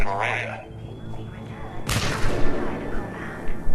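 A sudden loud explosion in Mass Effect 3 booms midway, followed by rumbling gunfire-like noise, with voices talking before and around it.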